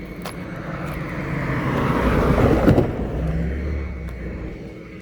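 A car crosses the railroad tracks at the St Clair Street crossing in Sullivan, Indiana, its engine and tire rumble swelling to a close peak midway and then fading away.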